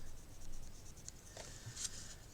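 A pencil making a short mark on paper, faint scratchy strokes close by over a quiet background hiss.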